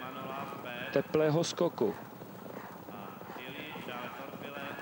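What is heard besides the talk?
horses galloping toward a ditch in a steeplechase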